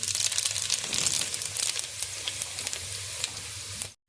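Whole cumin and coriander seeds crackle and sizzle in hot ghee, a dense, loud, close hiss with sharp pops throughout that cuts off abruptly at the end.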